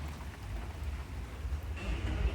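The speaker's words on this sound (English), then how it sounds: "It's always nice to enjoy the rain and the thunder." Steady rain falling outside during a thunderstorm, a broad hiss with low rumbling thunder swelling toward the end, moderately loud and continuous with no voices.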